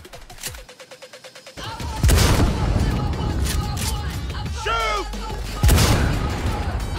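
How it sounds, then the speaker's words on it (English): Sniper rifle fire in the video game Cyberpunk: a few loud, sharp booming shots with ringing tails over a dense battle backdrop, a rapid mechanical rattle at the start and warbling effects in between. "And now, snipers in Cyberpunk."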